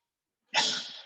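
A single sharp sneeze bursts in after half a second of silence, close and loud, then trails off into a breathy exhale.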